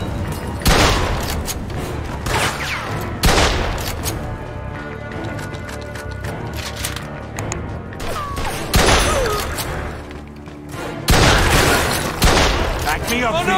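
Gunfire in the video game Mafia II Remastered: loud bursts of automatic fire and sharp single shots, repeated in clusters with booming impacts, while voices talk between and over the shots.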